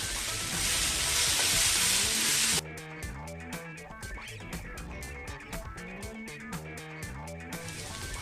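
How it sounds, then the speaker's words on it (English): Dried coconut frying with cooked onions and tomatoes in a pan for usal, a loud hiss at first, then a softer crackling sizzle with scattered sharp pops and spoon scrapes. "we will be adding the dried coconut to it and we'll just cook it for another 2 minutes"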